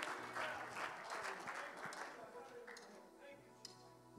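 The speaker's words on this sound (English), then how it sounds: "Let's give Him a hand clap of praise." A church congregation claps hands in praise during a worship service, a loud, sustained round of applause that slowly thins out, with a voice talking underneath.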